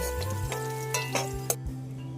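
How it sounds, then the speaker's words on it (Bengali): Potatoes sizzle steadily in hot oil, a continuous crackling hiss with a few light utensil knocks and a low hum underneath. "তেল গরম হয়ে গিয়েছে, আলুগুলো ভেজে নেব"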